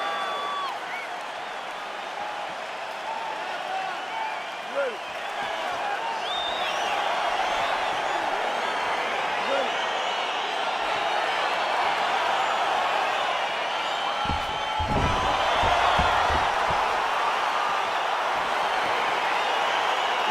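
A large UFC arena crowd at the Bell Centre in Montreal roars steadily throughout, swelling louder midway with scattered whistles and shouts over a dense, continuous wall of noise.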